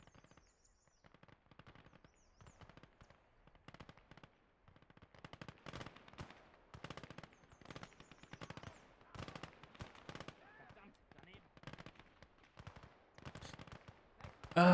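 Machine gun fire in the World War II game Gates of Hell, with several guns chattering in dense, irregular bursts throughout, layered with scattered gunshots and distant battle noise, ending on a louder close burst.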